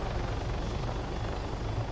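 A video-game helicopter flies close overhead, its rotor producing a steady, dense, low thudding whir that stays loud and unchanged throughout.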